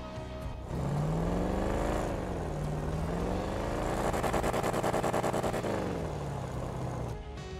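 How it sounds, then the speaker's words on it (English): Bravado Gauntlet muscle car in GTA Online, its engine revving and rising through gears with a deep, loud exhaust note, then holding a steady drone before easing off near the end. "this Gauntlet does step out of its father's shadow when it comes to exhaust notes"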